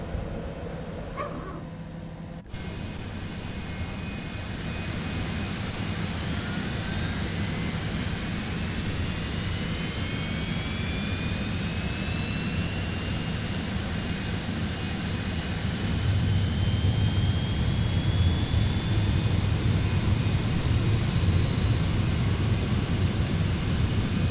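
A Cessna Citation X (C750) jet's number one engine starts up in Microsoft Flight Simulator 2024. A rising turbine whine spools up gradually over a steady broadband roar, which grows slightly louder toward the end with no talking.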